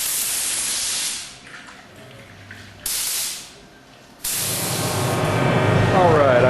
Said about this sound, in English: So I'm going to go mix my paint up and come back out and start spraying.